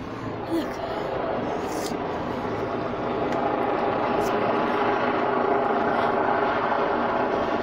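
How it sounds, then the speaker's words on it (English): A helicopter passes overhead, a broad steady rotor and engine roar that stays loud and continuous across the whole stretch, with no clear talk over it. "Oh, it's just a quick helicopter."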